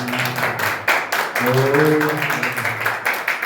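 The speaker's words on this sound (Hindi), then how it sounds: "ताली बजा के हम प्रभु" Church congregation at a Good Friday service clapping in a steady rhythm alongside voices singing or praying, the claps sitting close and regular under the vocals.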